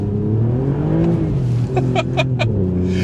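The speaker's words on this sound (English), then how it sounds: "Those gear shifts from the 8-speed ZF box just sound delicious." An Alfa Romeo Giulia Quadrifoglio V6 engine revs and pulls hard, with quick 8-speed ZF gear changes marked by sharp pops and crackles from the exhaust.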